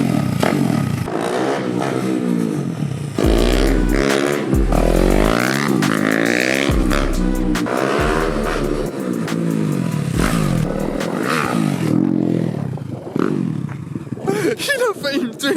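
A new motorcycle revs and accelerates in repeated rising bursts, each one climbing in pitch before dropping away, loud and close, with rattling and scraping noises in between.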